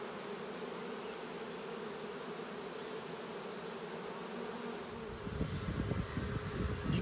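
A swarm of honey bees enters a hive, a steady close buzzing drone that thickens with louder, busier humming near the end.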